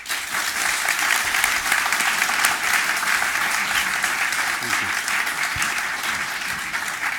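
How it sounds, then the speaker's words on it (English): An audience gives a debate panel a sustained round of applause, dense steady clapping filling the room from start to finish, with a brief spoken thanks heard over it. "round of applause to our panel"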